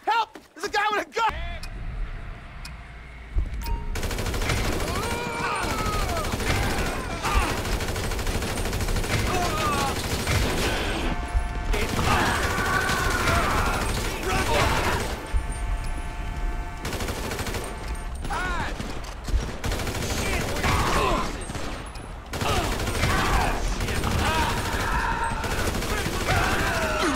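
Gunfire bursts and loud shots ring out in Grand Theft Auto 5, a dense, continuous barrage of game action with vehicle and mechanical noise mixed in, while voices talk over much of it.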